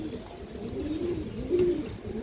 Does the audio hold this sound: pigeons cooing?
yes